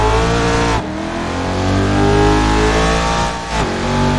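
A BMW X5 engine in Assetto Corsa drones loudly inside a tunnel, its tone rising and holding under sustained acceleration, with two brief gear-change dips along the way.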